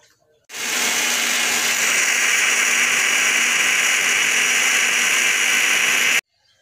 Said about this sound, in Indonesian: Bumbunya sudah selesai di blender.